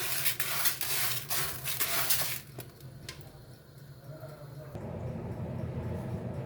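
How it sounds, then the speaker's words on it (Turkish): Rice and red lentils, with bulgur, being stirred and washed by hand in water in a bowl, giving a close run of wet swishing and light clatter that quietens midway, then returns as a steadier rinse. "pirincimi, mercimeğimi bunları karıştırıp bir güzel yıkıyorum"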